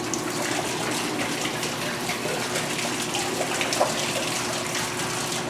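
Water rushes steadily through a sewage-treatment exhibit with biological filters as a dial raises the water level, a constant broadband wash with faint voices in the background.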